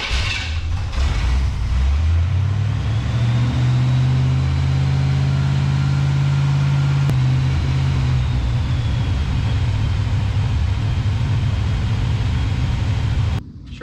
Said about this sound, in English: Sure is high idling, like got a bad vacuum leak or something.